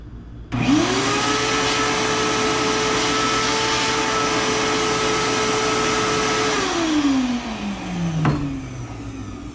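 A lathe cuts a MOPAR flywheel with a loud, steady machine whine that holds for several seconds, then winds down in falling pitch. A brief knock comes near the end, and nobody speaks.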